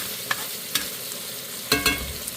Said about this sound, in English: we're going to move our sausage a little bit to the side